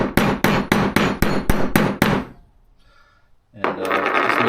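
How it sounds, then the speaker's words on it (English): A hammer drives an aluminum tool against a steel trailer wheel hub to seat a bearing, with about nine sharp, evenly spaced loud strikes, a brief pause, then more rapid blows. "The sound will change pitch once the aluminum is hitting the steel of the hub."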